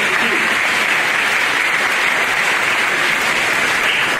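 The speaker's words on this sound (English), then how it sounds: "We can clap for that because y'all have so much to come." Sustained, loud audience applause fills a graduation ceremony, dense steady clapping from a large crowd continuing throughout without pause.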